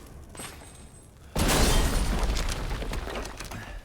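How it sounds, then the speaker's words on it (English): A loud video-game pipe bomb explosion bursts in suddenly after a quiet moment, a heavy boom with shattering debris that rumbles and crackles as it slowly fades, with no voices over it. "I love how dramatic that explosion is"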